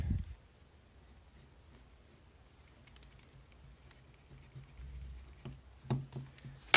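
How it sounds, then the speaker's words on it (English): Quiet, scratchy rubbing of an eraser on paper clearing pencil lines during an origami winged heart tutorial, in short repeated strokes growing busier toward the end. "now I'm just going to go ahead and erase these"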